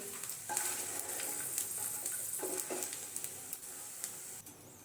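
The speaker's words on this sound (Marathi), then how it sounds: "इथे आपण काजू परतून घेऊया" Cashews frying in ghee for rice-flour ladoos, a soft continuous sizzle with light stirring scrapes and taps, close and fairly quiet.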